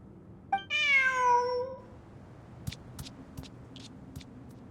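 Cat in the video game Genshin Impact gives one clear, drawn-out meow that rises and then falls, followed by a few faint clicks and taps against a quiet background.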